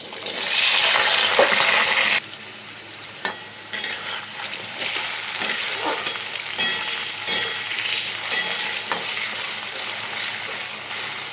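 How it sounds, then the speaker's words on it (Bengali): Cut potatoes dropped into hot mustard oil in a kadai, opening with a loud hissing burst of sizzle that settles into steady, softer frying crackle with intermittent pops and stirring clatter. "তেল গরম হয়ে গিয়েছে, এবার দিয়ে দিচ্ছি দুটো কেটে রাখা আলু।"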